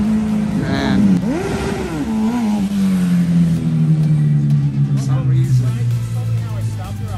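Kawasaki ZX14R motorcycle returning from a test ride at dusk, its engine loud and close with a rising rev near the start, then a steady, gradually falling drone, with people talking over it.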